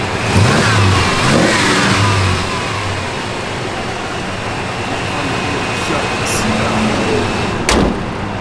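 A 1990 Chevrolet Blazer 4x4's engine runs loud and steady, opening with a couple of strong revs in the first seconds before settling into a sustained mid-pitched drone, with a brief sharp knock near the end.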